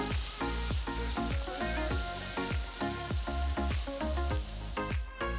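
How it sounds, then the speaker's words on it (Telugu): Cooked sweet corn tossed into a pan of fried rice vegetables, with a continuous loud sizzle and rapid rhythmic clatter of stirring and tossing, close up. "ఇప్పుడు నేను ఆల్రెడీ ఉడికించి పెట్టుకున్న ఒక బౌల్ అంత స్వీట్ కార్న్ని ఇందులో వేస్తున్నాను ఇదంతా బాగా కలపాలి"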